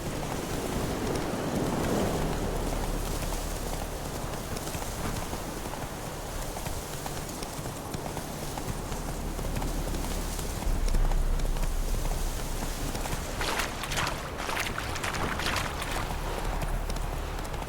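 A horse's hooves clip-clop steadily in The Witcher 3, a rhythmic trot under wind and ocean-like ambience, with a brief louder bump midway.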